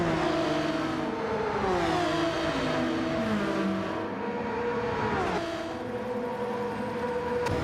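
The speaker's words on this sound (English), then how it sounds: "Pilgrim in the Honda NSX slipstream there." Racing video game with a Honda NSX among the cars, engines revving loudly with rising and falling whines as cars accelerate and shift, a continuous dense roar with no talking.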